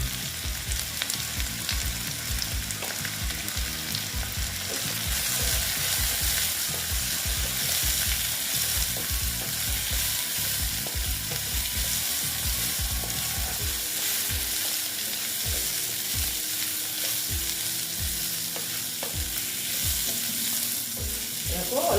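Besan frying in a pan gives a steady sizzle, with rhythmic scraping strokes of a spatula stirring it close up, and no talking.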